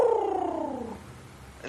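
An actress imitates a bird call with her voice in a 1985 French film, a single sustained, gliding whistle-like note lasting about a second, fairly loud, then fading into quiet background.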